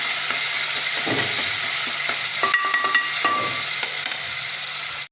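Green chillies sauté for a coconut milk pulao, giving a steady loud sizzle in the pan with scattered scrapes and clinks of stirring, and no talk.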